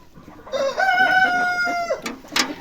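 Rooster crowing once in a village yard, a loud, close, drawn-out cock-a-doodle-doo ending in a short cluck.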